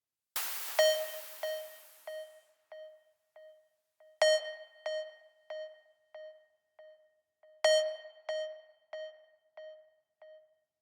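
Dubstep synth FX in the J:Kenzo style: three bright synth beep hits, each followed by a train of decaying echo repeats, with a hoover-type sweep at the start, alone and fairly loud.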